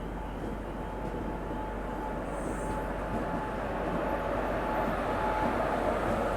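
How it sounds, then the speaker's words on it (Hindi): Train coaches being shunted at Indore railway station, a steady low rumble and drone holding evenly throughout with a faint high tone, no clear individual clanks. "यहाँ पे शंटिंग भी हो रही है।"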